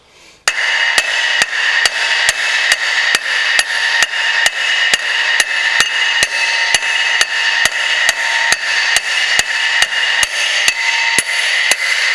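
A hammer strikes a metal part on a Subaru center differential again and again in a quick, even rhythm, over twenty sharp taps that stay close and fairly loud, the ring settling into a duller, solid knock.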